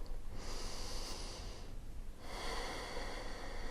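Slow, audible breaths during a prenatal yoga flow, a long airy exhale followed by a pause and another drawn-out breath, close and steady with no talking.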